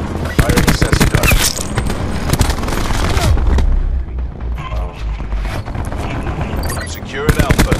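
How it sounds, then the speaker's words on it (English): A sensor gun fires in a video game, with dense rapid bursts of booming, gunfire-like blasts layered over battlefield noise, loud and continuous before easing slightly and then flaring up again at the end. "Firing sensor gun."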